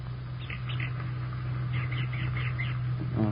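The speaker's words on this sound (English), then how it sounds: "Shall we have another one of these bird calls, Mr. Adams?" A recorded bird call played on a 1940s radio program: thin, faint chirping phrases in two short bursts over steady broadcast hum.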